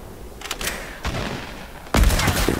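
Gunfire in the video game Fortnite, with scattered shots early on, a crack near the middle and then a louder, rapid burst of firing toward the end.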